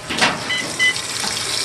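GE Hydrowave washing machine filling with cold water at full pressure through a cold valve that had been sticking, a loud steady hiss and rush of water close by, with no talk.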